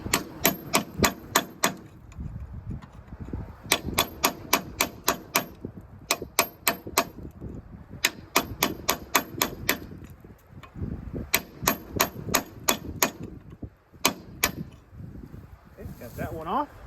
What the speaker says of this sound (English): Nice little small sledgehammer and a good chisel.